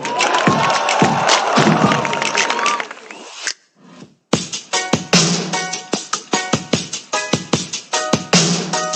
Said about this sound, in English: Can we give a big round of applause for this organizing team?